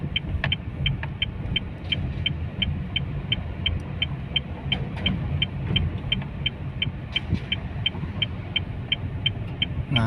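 Manual car climbing a slope in second gear, its engine holding a steady low rumble throughout with a faint rhythmic clicking running alongside.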